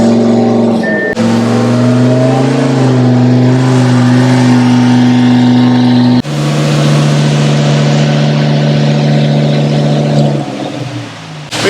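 Tuned twin-turbo Audi R8 of about 1266 wheel horsepower revving hard under load, a loud, sustained engine roar with steady harmonics that dips briefly near the middle before climbing again, then eases off at the end.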